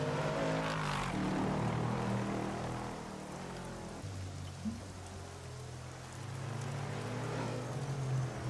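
Rain hisses steadily in the Assetto Corsa racing game, a broad wash over a low car engine drone, fairly quiet and continuous with a slight swell toward the end.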